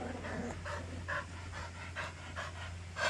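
Kulog the dog pants after running, with quick, rhythmic breaths close by over a steady low hum, and no talk during the panting.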